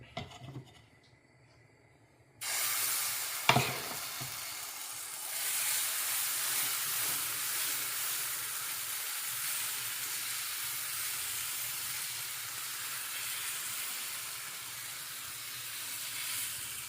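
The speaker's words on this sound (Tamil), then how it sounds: "இப்போ தோசை ஊற்ற போகிறேன்." Dosa batter hits a hot pan in a Paris food service kitchen and breaks into a loud, steady hiss that holds, after a quiet start and a brief clack.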